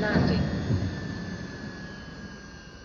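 A video game spacecraft plunges into a planet's atmosphere to land, a broad roaring jet-like rush that swells briefly at the start and then steadily fades, with a synthetic voice speaking over it.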